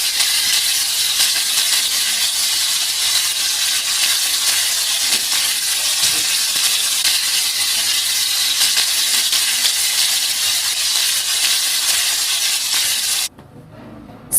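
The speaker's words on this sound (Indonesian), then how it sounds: "ini ada irisan bawang merah yang mau digoreng" Steady loud sizzling and hissing of sliced shallots frying in hot oil in a wok, continuous and close, cutting off abruptly near the end.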